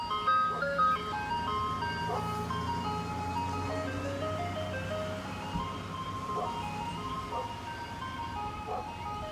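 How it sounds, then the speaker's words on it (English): An American ice cream truck passes by, its chiming jingle melody playing over a low engine rumble, fairly close and steady throughout with no talking. "an ice cream truck drove by"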